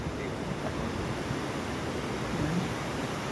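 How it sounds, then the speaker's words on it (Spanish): Sea waves washing against the coast beside a jetty along a coastal road, a steady broadband roar with wind buffeting the microphone throughout. "aquí ya está el mar, lo que es la costa"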